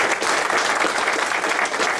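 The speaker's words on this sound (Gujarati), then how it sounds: "આવો આપણે રતિલાલજીને, નાનુ બાપાને અને જનકભાઈને તાળીઓના ગડગડાટથી વધાવી દઈએ" An audience in a temple claps together in a dense, steady burst of applause, close and continuous, with no voices standing out.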